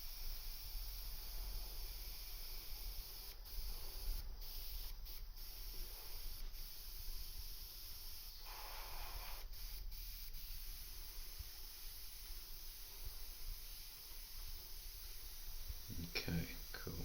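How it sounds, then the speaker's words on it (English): An airbrush sprays paint over small patches of a sculpted alien xenomorph model, producing a soft, steady hiss with brief breaks and light clicks, heard close and quiet throughout. "I'm just going to airbrush over those little patches again."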